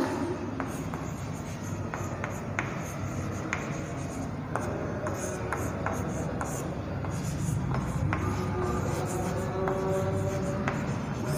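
Chalk or marker taps and scratches on a board during a science lesson, short strokes spaced irregularly over a steady room hum, with a teacher's voice faintly underneath.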